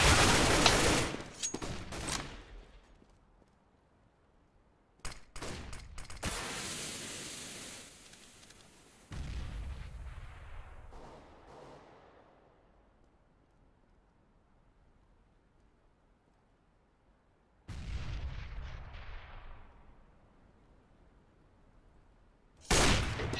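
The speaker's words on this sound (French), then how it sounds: "le gros coup de snipe là de Zerski par contre sur Adrien" Gunfire and heavy sniper shots in a competitive CS:GO match, sharp loud bursts spaced across the stretch with long decaying tails and quiet gaps between them.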